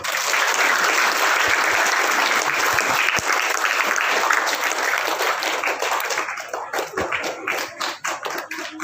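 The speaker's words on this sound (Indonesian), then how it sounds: "Tepuk tangan dulu." A crowd applauds steadily with dense, continuous clapping that thins into scattered, separate claps near the end.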